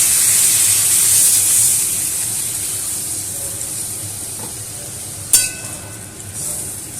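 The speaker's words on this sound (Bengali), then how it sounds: "এবারে আমি এর মধ্যে জল দিয়ে দিচ্ছি।" Water poured into a hot pan of fuluri for a quick home curry, giving a steady steamy hiss and spray that fades gradually, with one sharp clink near the end.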